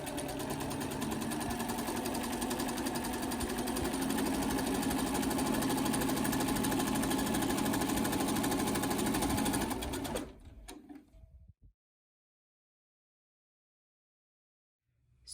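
Sewing machine runs continuously for about ten seconds, stitching long strips of quilting fabric together in a loud even whir, then slows and stops.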